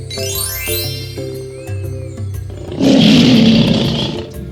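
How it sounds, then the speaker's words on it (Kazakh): A lion gives a deep, loud roar that swells in the second half, following a short stretch of bright tonal music and chimes. "Бұл көлеңкеде арыстан."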